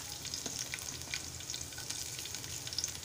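Garlic frying in hot oil, a steady close crackling sizzle with small popping bursts throughout and no talking.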